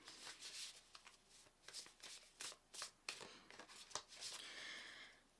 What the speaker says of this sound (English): I'm just gonna do a quickie shuffle.